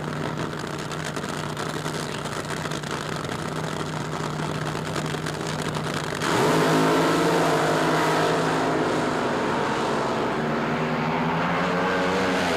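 A Chevrolet drag car powered by a Keith Black racing engine roars down the strip at the 1976 NHRA Springnationals, a loud sustained engine blare that swells and shifts pitch midway as it passes, with no talking.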